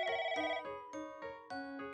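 A phone ringtone in a children's educational computer game plays in repeated bright electronic chimes, about six quick tonal bursts in a steady pattern, clear and close.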